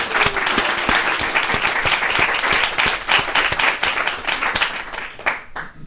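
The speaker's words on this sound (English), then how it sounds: "I think massive round of applause to this team" A studio audience claps steadily for a team during a charity Taskmaster-style show, dense close applause holding throughout before cutting off abruptly at the end.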